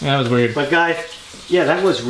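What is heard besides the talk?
None of the usual background noises is heard.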